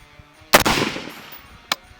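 One loud UAR-15 rifle shot cracks and rings out briefly during sighting-in at a target, followed by a faint tap a second later.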